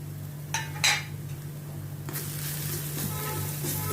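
A mixture of corn, potato and onion sautés in a pan with a steady, quiet sizzle, broken near the start by a couple of sharp clinks from a utensil.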